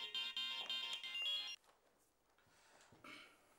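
A phone ringtone rings loudly in a scene from an Egyptian drama series, a bright repeating electronic tone that stops after about a second and a half, leaving quiet room sound.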